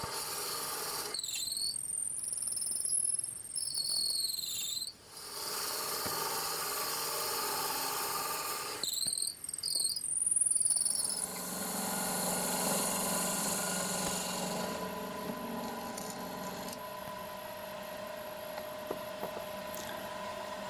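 A one-inch Forstner bit bores into wood on a lathe, giving two long bursts of high, squealing, grinding cutting noise against a steady motor hum, with quieter running between and after.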